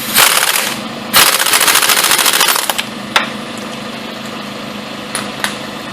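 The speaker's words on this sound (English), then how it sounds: "I just use a torque stick on an impact because I've done it so many times" An impact wrench with a 100-pound torque stick tightens a bolt on a 2006-2011 Kia Rio during a timing belt job. It gives two loud, close rattling bursts, then a short clank and a few faint taps while an engine idles underneath.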